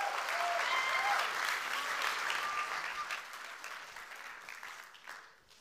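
Church congregation clapping half-heartedly, a steady wash of applause from a sizeable crowd that holds for several seconds and then thins and fades toward the end.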